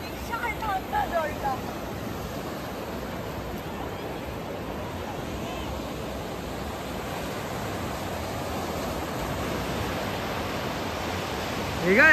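Sea waves wash onto the sandy beach at Bakkhali in a steady, continuous broadband rush with soft wind noise, the surf rising slightly louder at the very end.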